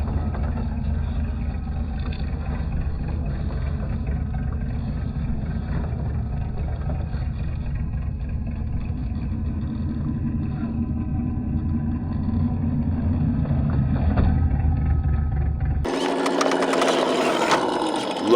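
An RC trail truck modeled on a Dentside Ford Bronco crawls along a backyard trail course, its small motor giving a steady droning whine at moderate level, ending with a brief brighter noisy burst.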